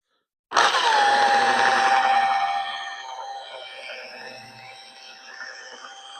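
A power buffer polishes the paint on a B5 Blue 1970 Dodge Challenger after wet sanding, starting with a loud whine that holds steady before easing into a quieter, wavering drone.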